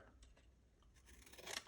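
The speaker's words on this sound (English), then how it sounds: "Take a pair of scissors" A pair of scissors snips through paper for mosaic work, producing short crisp cuts that repeat close by, quiet at first and sharper toward the end, with no voices.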